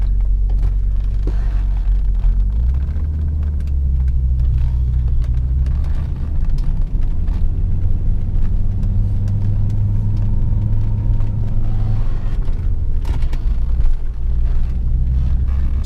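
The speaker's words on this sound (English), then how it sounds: "So let's just take it on a quick drive here in the parking lot." A 1987 Audi 5000 CS Turbo Quattro drives slowly around a parking lot, its engine a steady low rumble that swells and eases with throttle, heard close and continuous with no talk.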